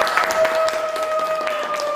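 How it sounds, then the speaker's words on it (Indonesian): Students in a classroom clap for a presenting group, a short burst of scattered handclaps over a steady tonal hum. "Oke, beri tepuk tangan untuk kelompok 1."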